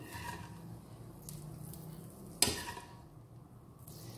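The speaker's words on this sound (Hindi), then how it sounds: "आप जो बाकी का मैंने बचाया था ये तड़का, ये डालेंगे इसके ऊपर।" Hot reserved tadka tempering is poured over Punjabi karhi with pakoras, giving a sudden sharp sizzle that flares up and then settles into a soft crackle, close up with no talking.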